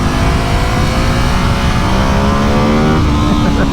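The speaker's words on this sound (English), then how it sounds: "it does pick up speed nicely though. It is a fast bike." A 2020 Ducati Hypermotard 950 SP motorcycle accelerates hard, its engine note climbing steadily through the gears as a loud, continuous rising drone with wind rush, close up and without speech.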